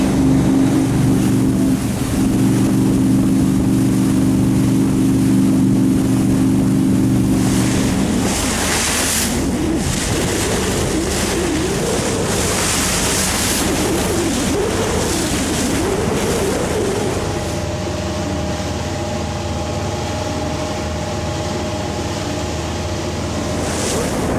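Steady engine drone of a motorboat running on the water off Chicago, heard from the bow, with wind and wave wash rising and falling; the motor tone shifts pitch partway through.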